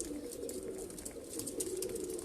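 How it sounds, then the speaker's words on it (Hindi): Lakha breeder pigeons, two females and a male, coo softly and repeatedly at close range over a faint background hiss, with no talking. "ये 2 कबूतरी हैं, ये कबूतर है"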